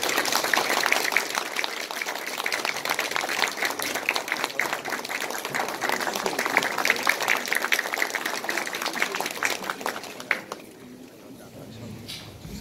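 A concert audience applauds steadily for about ten seconds as an orchestra conductor comes out, the clapping dense and continuous before fading into quieter room noise.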